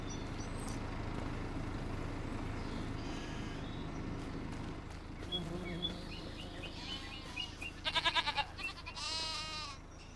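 Baby goat in the Farming Simulator 25 video game, a series of thin, high bleats growing louder toward the end over a soft steady farm ambience, with occasional bird calls.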